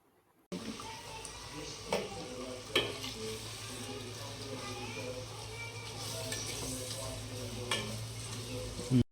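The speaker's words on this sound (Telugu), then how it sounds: "కట్ చేసుకున్నటువంటి 2 పెద్ద ఉల్లిపాయలు, కొద్దిగా ఉప్పు, అలాగే కొంచెం పసుపు వేసుకొని బాగా కలుపుకోవాలి" Two large chopped onions with a little salt and turmeric fry in a pan for chicken curry, a steady sizzle running throughout, with occasional scrapes and clinks of a spoon stirring.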